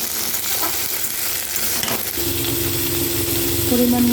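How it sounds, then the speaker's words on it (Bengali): Cauliflower frying in a pan with beans, carrot and capsicum for a vegetable paneer dish, a steady loud sizzle with stirring scrapes throughout and no talk. "তারপরে ফুলকপিটাকে ভাজবো।"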